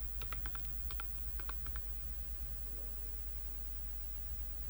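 Quick bursts of clicking keystrokes on a computer keyboard while HTML code is entered, close and fairly quiet over a steady low hum, with a pause between flurries.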